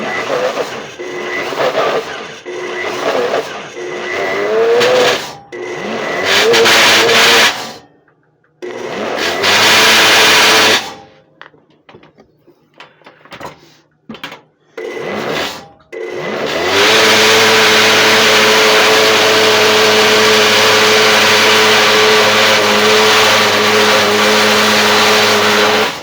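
A kitchen blender runs in repeated loud pulses with short stops between them, then settles into one long continuous whir for the final ten seconds.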